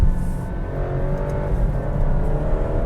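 A 2023 Alfa Romeo Stelvio Estrema with a 2-liter turbo engine pulls in a lower gear, a steady engine drone heard from inside the cabin, moderately loud and without speech.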